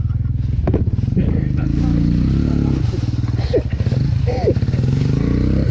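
A dirt bike engine runs steadily in the woods with a rough, throaty drone, rising and dipping slightly, while clattering and scraping bits come and go near the microphone.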